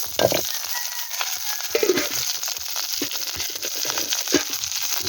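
Small shallots, cumin and curry leaves fry in oil for horse gram sundal, a steady close crackling sizzle with occasional stirring scrapes and light pops.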